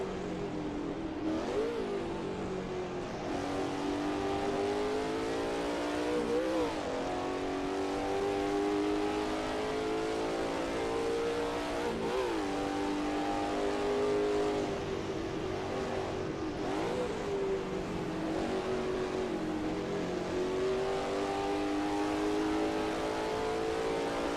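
Ford GT40 engine in the racing game Assetto Corsa, a steady loud roar that rises and falls through shifts and throttle changes as the car brakes and powers through a corner, heard alone without talk.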